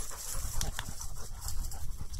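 Dogs panting hard after running, a quick rhythmic huffing close to the mic under outdoor wind and background rumble.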